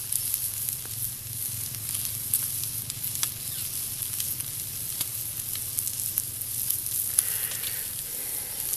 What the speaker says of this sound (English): Just need enough to fry up a can of Bologna